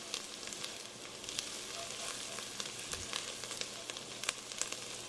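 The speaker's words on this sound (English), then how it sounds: "Here's our garlic. We're just gonna get that stirred around, and we're gonna let that go for about a minute" Garlic sizzles in hot oil in a pot for chili, a steady close crackling hiss with small pops and occasional scrapes of stirring, no voices over it.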